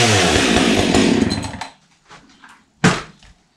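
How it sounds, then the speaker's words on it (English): A chainsaw cuts off a board in a horse barn, loud and close for about a second and a half before it drops off, followed by a few knocks and a sharp clatter as the piece falls. "all I got left to do is cut that board off"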